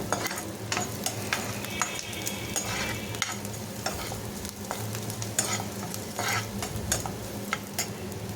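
Chana dal frying and being stirred in a pan for beetroot poriyal, a steady close sizzle with frequent scraping stir clicks throughout.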